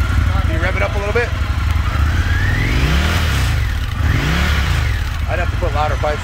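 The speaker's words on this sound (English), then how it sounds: "Can you rev it up a little bit?" An Indian motorcycle is revved at a dealership during Daytona Beach Bike Week 2021, its loud, close engine rising and falling through a couple of revs while people talk nearby.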